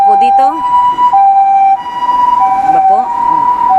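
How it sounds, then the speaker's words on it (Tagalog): An ambulance siren wails through a street in Gunma, Japan, loud and close with alternating two-tone pitches over traffic noise. "Andito po yung ambulansya."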